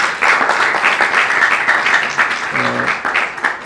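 Audience applause at an ecumenical church gathering during Unity Week, a steady wash of many hands clapping for the full stretch, fairly loud, with a brief tonal murmur partway through.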